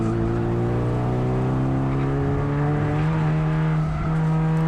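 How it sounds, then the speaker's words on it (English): Mitsubishi Evolution accelerating hard out of a turn at Thunder Hill East, a loud steady engine drone climbing gradually in pitch, heard close from inside the car with no talk. "back on the gas to allow it to pull to the exit"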